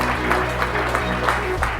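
An audience at a Seoul AI and blockchain summit applauds, a dense, steady burst of clapping heard briefly and at moderate level.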